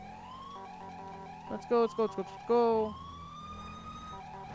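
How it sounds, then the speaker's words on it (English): A police siren in the video game LSPDFR wails steadily at moderate volume in the background, while a voice speaks briefly over it. "Sirens sound so good."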